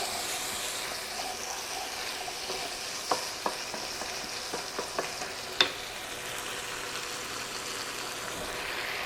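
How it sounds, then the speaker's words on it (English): Ground beef with peppers and onions is stirred in a hot pan, a steady close sizzle running throughout with a few sharp spoon knocks and scrapes against the pan in the middle. "I'm going to go ahead and just kind of stir this around and get it all merged into the ground beef,"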